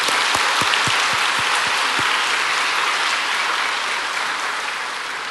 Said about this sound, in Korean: 저런 아이들을 위해서 우리 박수 한번 해야 됩니다